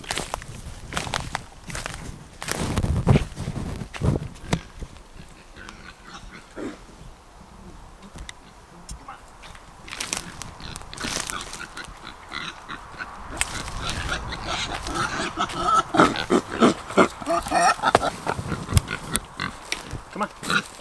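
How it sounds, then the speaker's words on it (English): Pigs being moved to new pasture in cleared forest land, grunting and snuffling at close range amid rustling footsteps and scattered thumps, growing busier toward the end. "But it is pig moving time."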